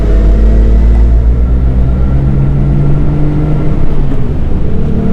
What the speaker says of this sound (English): So we're in 4th gear. Let's go ahead and drop it into 3rd.